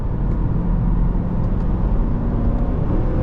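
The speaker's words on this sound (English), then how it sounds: "And the engine just screams for you." A 2024 Dodge Durango R/T engine heard from inside the cabin, a loud, steady low-pitched roar under acceleration with constant road rumble and no talking.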